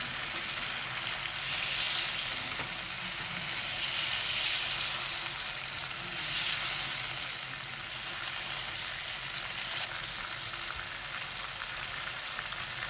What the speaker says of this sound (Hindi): घी के साथ हमारी चिकन फ्राई होते हुए, तेल के साथ चिकन फ्राई होते हुए